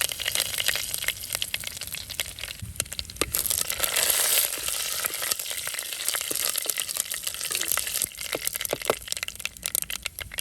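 Mustard seeds and curry leaves sizzling in a tablespoon of hot coconut oil, with a steady dense crackle and scattered sharp pops throughout, loud and close.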